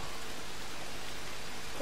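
Rain falls in the video game Dead Island Riptide as a soft, even hiss of drops that stays faint and unbroken throughout.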